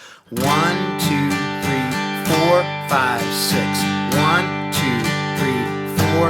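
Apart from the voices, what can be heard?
acoustic guitar strumming down, down, up, down, up, down pattern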